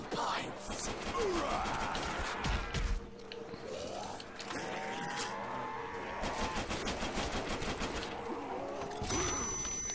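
Rapid pistol shots and grenade blasts in a custom Christmas zombies map of Call of Duty: World at War, dense bursts of loud gunfire with crashing explosions and game noises throughout.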